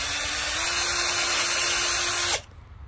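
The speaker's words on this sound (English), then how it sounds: "So let's go ahead and start drilling." A power drill runs steadily at high speed while boring into a plant pot for a garden irrigation setup, a loud continuous whine held for over two seconds before it cuts off abruptly into near quiet.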